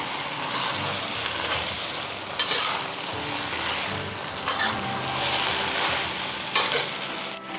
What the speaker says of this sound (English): add the choy some, which doesn't take much time to cook. Continue stirring for another minute.